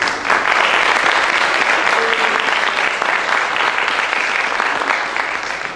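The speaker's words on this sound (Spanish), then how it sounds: "Les pido un aplauso." Loud, sustained applause from a crowd at a university American football anniversary event, a thick continuous roar of clapping that holds steady and tapers slightly at the end.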